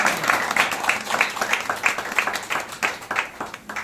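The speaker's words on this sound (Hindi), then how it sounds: "ताली बजाइए" Rhythmic congregational clapping at a worship gathering giving thanks to God, steady evenly spaced claps from a crowd, fairly close and moderately loud.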